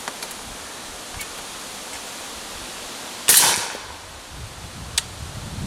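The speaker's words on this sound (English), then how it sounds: "I'll shoot one into the bank, and then I'll shoot another at a steel target at 50 yards so you can hear how quiet this thing really is" A suppressed .375 SOCOM rifle fired outdoors into a dirt berm, one sharp muffled crack with a brief hissing tail, then quiet background with a faint click.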